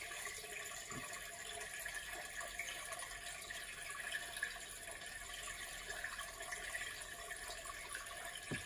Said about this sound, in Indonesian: Oh, airnya ngalir di bawah teman-teman ya, airnya di sini ya. Kita langsung masuk ke pembuangan air.